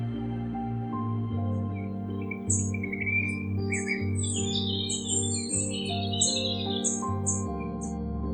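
Small desert birds in the rocky Hatta area of the UAE chirp and trill in quick bursts, mixed in with a steady musical backing.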